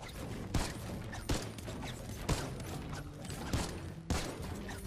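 Fortnite Battle Royale gunshots ring out as about six sharp, separate cracks spaced roughly a second apart over a low background hum, moderately faint and with no voices.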